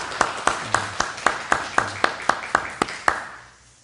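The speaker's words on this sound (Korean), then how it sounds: "우리 박수로 환영합시다" A church congregation claps in welcome for a family with a new baby, about a dozen loud, evenly spaced claps in steady rhythm that fade out at the end, with no talk over them.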